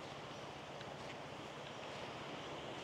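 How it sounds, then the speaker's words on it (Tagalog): Ocean surf washes steadily onto a beach with clear water, a continuous broadband roar mixed with wind buffeting the microphone, fairly close and with no talking. "Doon sa may alon na yon."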